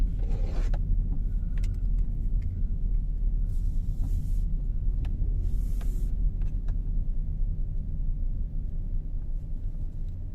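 A car drives out of a parking lot: a steady low engine rumble and road noise inside the cabin throughout, with a few faint clicks and brief hissy swishes, no talking.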